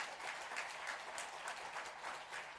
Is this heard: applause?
yes